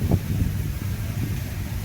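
Strong wind gusting into a microphone outdoors in Palghar on a rainy-season day: a steady, close, low rumbling roar of buffeting that fills the whole stretch with no speech.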